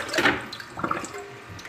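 Vinegar and water draining out of a cast iron pan, a short gush of pouring water followed by a softer trickle, close and brief.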